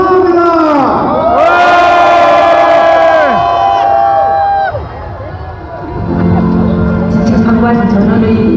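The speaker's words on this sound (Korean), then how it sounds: "여러분의 큰 박수와 함성으로" A large rally crowd outside the Hyundai E&C headquarters next to the Constitutional Court in Seoul roars with loud, sustained chanting and shouting voices. There is a brief dip midway before the cheering swells back up.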